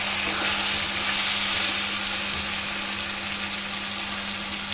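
Onion and garlic frying in oil for a chicken curry, a steady close sizzle with a constant low hum running underneath, continuous and unbroken.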